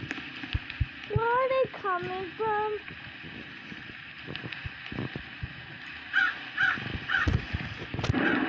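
Harsh cawing calls from a crow-like bird in the game Brookhaven RP, a few spaced caws over a steady background hum, with some clicks and thumps.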